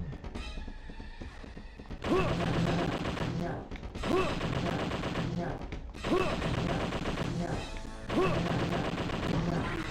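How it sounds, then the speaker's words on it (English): Bursts of machine gun fire in the Dreamcast zombie shooter Zombie Revenge, rapid and loud, coming in repeated volleys about every two seconds over a busy game soundtrack. "Dude, never shot a machine gun before."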